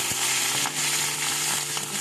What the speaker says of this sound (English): Fry the prawns